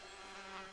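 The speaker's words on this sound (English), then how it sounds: "Uh-oh. More bees." Bees buzzing in The Sims 4 jungle adventure, a faint, steady droning hum with no break, heard alone without any voices.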